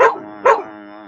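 Two close, short barks from a pet dog indoors, spaced about half a second apart, each loud and clipped, followed by a lingering tonal hum.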